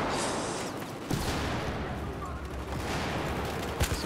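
Sustained gunfire rattles through a Battlefield 4 firefight, dense bursts of automatic fire with sharper shots standing out near the end, fairly loud and continuous, with voices of players mixed in.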